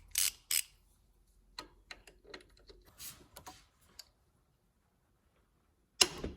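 A 14 mm socket wrench works at a pulley on a Honda Civic Si engine, giving sparse close metallic clicks and ratchet ticks, then a quiet gap and one last sharp click.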